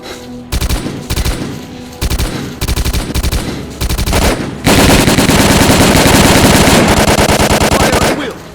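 Rapid machine gun bursts in the video game Stalker: Call of Pripyat during a final battle, several short volleys followed by a long sustained stream of loud automatic fire.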